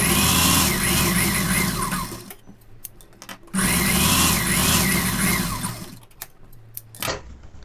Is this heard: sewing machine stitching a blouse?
yes